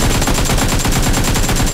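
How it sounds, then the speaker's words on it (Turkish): Rapid automatic gunfire in the PUBG Lite video game, a loud continuous burst of shots filling nearly two seconds before cutting off abruptly. "Tamam abi vurmuyorum şu an. Vuruyorum."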